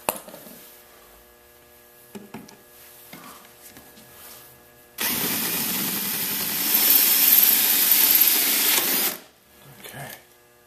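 A power drill bores a through-fitting hole in a 1994 Toyota Celica, whirring loudly and steadily for about four seconds after a few quiet handling clicks, then stopping, with brief speech around it.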